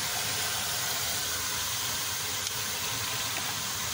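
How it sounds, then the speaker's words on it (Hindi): Kasi phal vegetable tipped into onions frying in a pan gives a steady, even sizzle and hiss that holds without a break, with no talking. "अब इसी स्टेज पे हम इसमें कासी फल की सब्ज़ी ऐड कर देंगे।"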